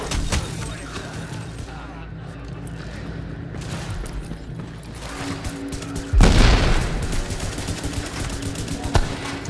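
Gunfire in The Division video game on heroic difficulty, loud continuous bursts and booms of automatic weapons, intensifying into a heavier blast partway through, with speech over the shooting.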